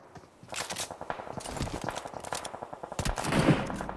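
PUBG Mobile match with SMG and UMP gunfire, a rapid run of close automatic shots in quick rattling bursts over about four seconds, loud and dense, with no voices.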